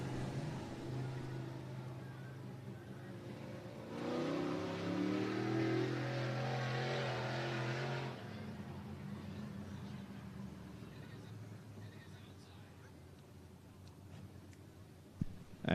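Dirt track race cars rolling slowly onto the Cottage Grove Speedway oval in Oregon for a heat race, a low engine drone that swells for a few seconds then fades back to a distant rumble.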